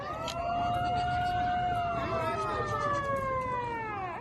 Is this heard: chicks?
no